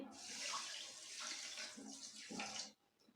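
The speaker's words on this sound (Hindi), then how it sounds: "सवा कप हम इसमें पानी डालेंगे" Water pours steadily from a container into a pan of sugar to make syrup for balushahi, a continuous splashing stream that stops abruptly near the end.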